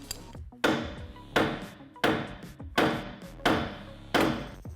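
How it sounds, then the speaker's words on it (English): Six sharp metallic hammer strikes on the steering joint of a 2017-2019 Ford F-150 Raptor, evenly spaced about a second apart, loud and close, with ringing decay between blows. "We have to hit right here with a hammer to disconnect them"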